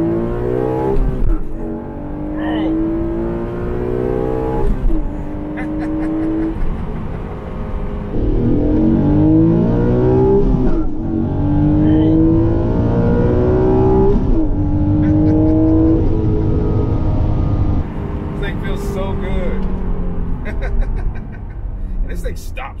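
An Acura NSX accelerates hard from inside the cabin, its loud engine note climbing in repeated rising pulls through the gears with brief dips at each shift, close and continuous for the whole stretch.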